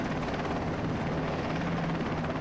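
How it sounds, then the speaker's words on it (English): Helicopter flying in the Battlefield 2 AIX video game, a steady, loud rotor and engine drone throughout with no talk over it. "we're starting off here with some chopper action"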